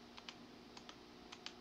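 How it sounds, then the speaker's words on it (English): A computer keyboard picked up by a nearby desk microphone: a few light, quick key clicks in loose pairs, faint against a steady background hum with no talking. "My mic picks up my keyboard sounds."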